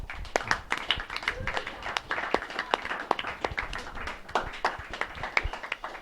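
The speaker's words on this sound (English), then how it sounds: "They all deserve a round of applause at this time." A small audience at a high school event gives a round of applause, scattered individual claps close to the microphone in an uneven patter, with some voices murmuring beneath.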